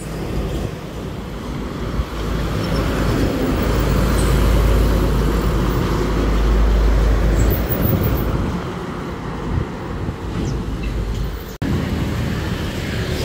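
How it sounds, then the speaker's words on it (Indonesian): A bus passes on a busy road beside a roadside restaurant in Cirebon, a loud broad engine and tyre roar swelling toward the middle and easing off, over steady traffic noise with no talk. "dari arah barat ada bis yang pertama melintas nih"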